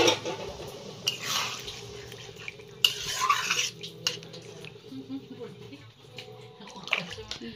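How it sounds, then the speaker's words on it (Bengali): Broth and spiced water are poured into a pan of cooking meat with potatoes, making bursts of splashing and dripping with scraping utensil clatter, close by, while a voice talks intermittently. "এবার দেয়া দেবো ঝোল, এবার দেয়া দেবো মশলা দেওয়া জলটা।"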